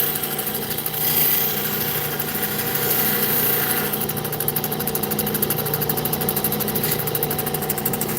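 A lapidary machine polishes the bottom bevel of a stone, giving a steady, moderately loud mechanical hum and whir that runs unbroken throughout with no talking.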